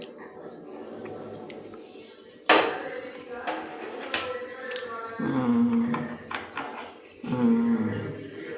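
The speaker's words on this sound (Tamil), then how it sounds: "இது மிளகாயை நான் நறுக்கிறேன்" A knife taps and cuts chili peppers on a board in a few sharp strokes, with clinks of kitchen items and a brief voice in between.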